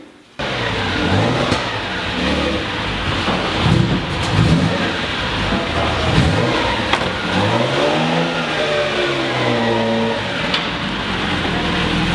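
A vintage car with a Veloce engine revs up and down repeatedly, loud and close, with a rough mid-pitched growl rising and falling over a steady idle.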